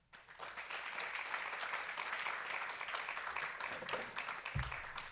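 An audience at a literature keynote claps after the speaker's closing thanks, a broad steady wash of applause that starts abruptly and holds at moderate level, with a brief low thump near the end.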